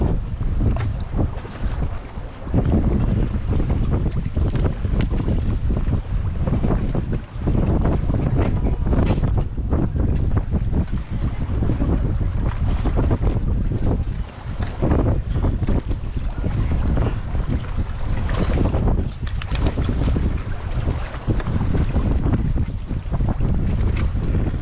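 Strong wind blasts a camera microphone while kayaking on open water, producing a loud, continuous roaring rumble with no letup.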